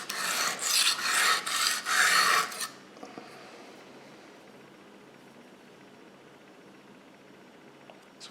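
Kitchen knife drawn across a knife sharpener in several quick rasping strokes up close, followed by near silence.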